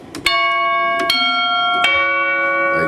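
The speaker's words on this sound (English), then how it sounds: "Third element is just going to be a bell," A bell sound in an FL Studio beat strikes three times, each clear ringing hit sustaining with bright overtones that ring on between strokes, loud and alone.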